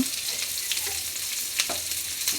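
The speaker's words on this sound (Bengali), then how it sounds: "দিয়ে দিচ্ছি পেঁয়াজ রসুন আর দিয়ে দিচ্ছি শুকনো ঝাল এবার আমি ভালো করে নেড়েছি একটু" Onion, garlic and dried chili sizzle steadily in a frying pan as a tempering for gourd and lentil dal, with soft stirring scrapes rising over the constant hiss.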